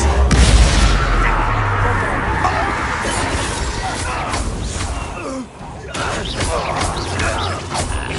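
A disarming spell cast in the Hogwarts Legacy video game bursts out as a loud, dense magical blast with booming, crackling impacts, dipping briefly before the rush resumes and continues steadily to the end.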